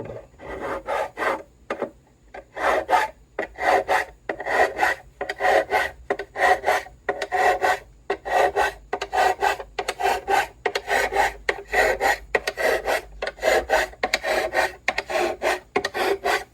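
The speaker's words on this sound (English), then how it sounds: "It's just a regular fret file." A metal fret file rasps across the fret ends of a Gretsch Streamliner guitar in steady rhythmic strokes, about one per second, close and fairly loud, with brief pauses between.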